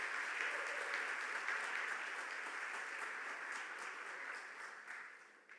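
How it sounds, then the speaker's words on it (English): Audience applause at The Hindu Lit for Life literary festival in a hall, a dense, steady wash of many hands clapping that holds level for several seconds and then thins out toward the end. "Big round of applause, ladies and gentlemen"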